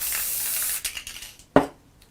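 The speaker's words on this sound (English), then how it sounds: "So I'm going to take my Cadence Stencil Spray" Cadence stencil spray from an aerosol can hisses steadily onto a craft tile for under a second, followed by a few softer clicks and taps and a sharper knock as the can is handled nearby.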